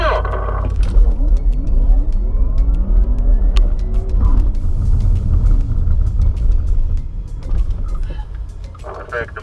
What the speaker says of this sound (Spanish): se pueden hacer muchos launch control a la vez, muchos arranques, muchos piques